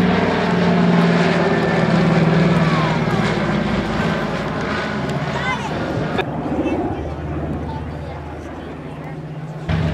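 PBY flying boat making a low pass over the end of an airfield at a warbird airshow, a loud continuous propeller-engine drone that slowly fades, with crowd babble underneath.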